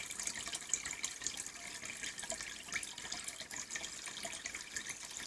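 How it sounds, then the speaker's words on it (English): Aquarium water drains into a bucket in a steady trickling, splashing stream, close and continuous with small bubbling fluctuations. "While this is emptying out, you see the water lines going down significantly"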